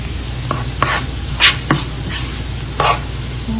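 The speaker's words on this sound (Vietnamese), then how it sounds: "Xả mình xào vàng này các bạn, vừa vàng thôi, đừng vàng nó bị đắng." Lemongrass stir-fried in a pan until golden, a steady close sizzle broken by several scraping strokes of a spatula at irregular intervals, no talking.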